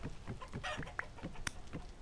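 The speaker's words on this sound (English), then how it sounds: "So we'll let out all these chickens." Chickens clucking in the Vintage Story video game, a run of short repeated clucks and fowl calls close by, with one sharper squawk, no talk over them.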